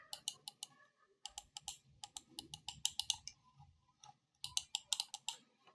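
A cheap Lenovo computer mouse clicks in quick, quiet bursts of several sharp clicks, with short pauses between the runs.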